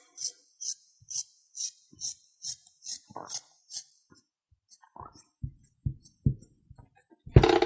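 Scissors cutting through folded elastic fabric for a homemade crop top make quiet, evenly spaced snips, followed by a few louder handling knocks and a burst of rustling at the end.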